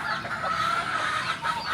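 Pet chickens and ducks cluck and call together in a dense, noisy chorus, steady and fairly close, with no talking.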